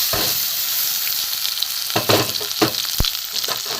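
Ridge gourd peel paste fried in a little oil in a wok, a constant close sizzle with several sharper clatters and scrapes scattered through, no talking.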